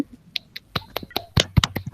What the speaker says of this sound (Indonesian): Beri tepuk tangan untuk Aan dulu.